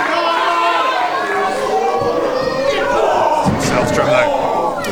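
At a wrestling match, a large crowd roars and cheers continuously, a dense wall of shouting and yelling voices throughout, loud and close.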